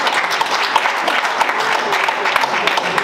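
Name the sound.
audience applauding at UDPS committee installation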